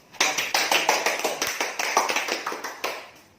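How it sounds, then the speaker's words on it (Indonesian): Schoolchildren clap together in a classroom in a quick patterned rhythm, clustered bursts of hand claps rising and falling for about three seconds, fairly close and moderate in volume. "Tepuk tangan dulu."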